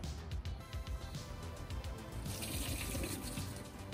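Water runs steadily from a tap into a sprayer jug that is being readied for liquid iron lawn fertilizer, giving a continuous splashing fill with faint clunks of the jug at the start.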